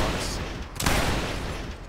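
Musket volley fire in the video game Mount & Blade Napoleonic Wars during a line battle: a loud, dense crackle of gunshots swells near the middle of the stretch, then a rumbling tail.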